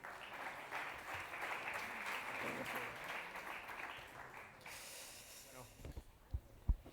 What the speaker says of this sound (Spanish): un aplaudiment pel César